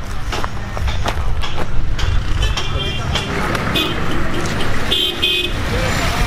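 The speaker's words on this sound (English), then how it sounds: "Lots of traffic here." Busy city street traffic in Ghana, with cars and buses rumbling past close by and repeated short horn toots, while people talk nearby over the steady road noise.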